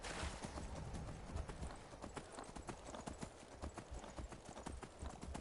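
Shadowmere, a horse in a video game, gallops in a quick, steady clip-clop of hooves that stays close and loud throughout.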